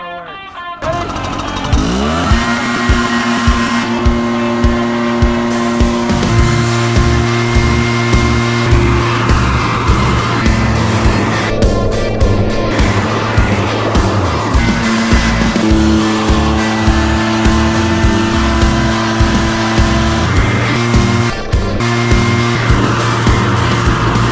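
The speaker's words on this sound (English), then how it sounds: "a backpack leaf blower, and boom, now our boat is motorized" A backpack leaf blower propelling a fishing boat roars loudly and steadily without a break, with sustained droning tones and rhythmic pulsing that stays close throughout.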